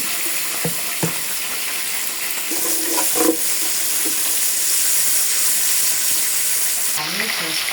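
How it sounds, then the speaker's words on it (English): Meat and onion sizzle steadily in hot oil in a cooking pot, a close continuous frying hiss with occasional stirring clinks and scrapes against the pot. "Our meat is frying beautifully."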